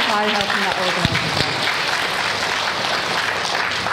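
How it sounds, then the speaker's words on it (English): School audience at a Year 6 awards event clapping in a steady, dense wash of applause throughout, with a voice speaking briefly near the start. "can we give them a clap"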